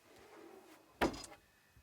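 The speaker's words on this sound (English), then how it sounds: "the first section is just some nice pantry drawers, and you can see how well that slides" A pantry drawer slides in the storage box of a Drifta Offroad Tourer camper, one short, fairly faint runner sound ending in a soft thud, with a small knock just after.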